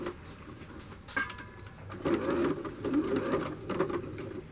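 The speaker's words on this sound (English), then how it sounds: "Pop the foot down and sew" A domestic sewing machine stitches through a stuffed cushion, whirring steadily close up in a few short bursts as it sews forward and back, with no talking.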